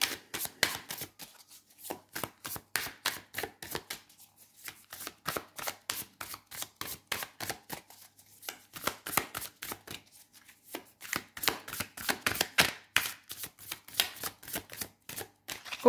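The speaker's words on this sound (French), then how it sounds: "je mélange un peu les cartes." Tarot cards are shuffled by hand in quick rhythmic runs of crisp slapping riffles, close and clear, with short pauses between bursts and no talking.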